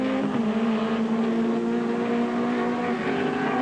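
BMW touring car racing in the 1987 British Touring Car Championship, its engine note dropping under braking into the hairpin, loud and continuous with steady droning harmonics and constant background noise.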